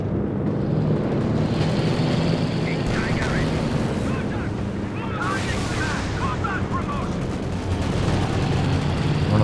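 Tank main guns and gunfire during a 2v2 Company of Heroes 2 match, a dense, continuous barrage of booming shots and rattling fire that stays loud throughout, with a commentator talking over it.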